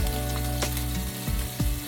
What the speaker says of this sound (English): You hear that, sizzle? That is what you want to hear.